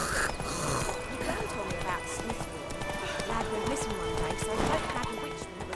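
Horse hooves clip-clop at a steady walking rhythm in The Witcher 3, close and continuous over game ambience, with a brief whinny near the end.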